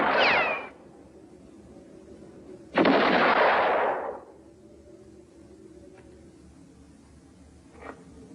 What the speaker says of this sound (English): Say, Tim, how many shots do you have left in your rifle?